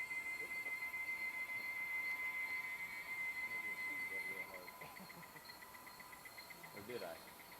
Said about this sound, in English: Listening to the sound of a katydid,